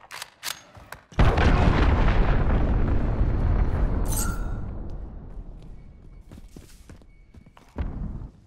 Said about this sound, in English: Cruise missile launched.